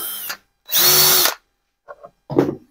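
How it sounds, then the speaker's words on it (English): A power drill bores a hole through a fitting into a plastic bait tank: one short burst, then a sustained high whining run, a brief tap and a final rougher burst, loud and close. "drill a hole through the fitting right into the tank."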